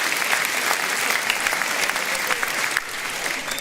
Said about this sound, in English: Round of applause for the members. Give yourselves a round of applause.